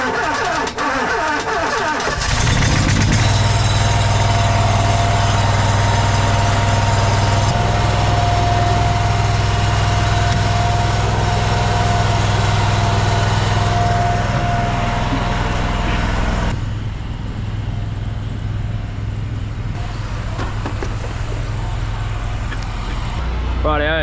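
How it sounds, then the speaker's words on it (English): A plumber's drain jetting machine clearing a blocked sewer starts up and runs as a loud, steady engine drone with a constant high whine, continuous and close throughout, with no talk. "gonna create a bit of noise here and turn this jetting machine on"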